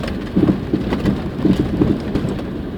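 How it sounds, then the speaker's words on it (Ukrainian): A car rattles and knocks over a rough road in Drohobych, Ukraine, with a continuous low rumble and irregular thumps and clatters throughout. "Чуєте, як гримить машина, як це стукає."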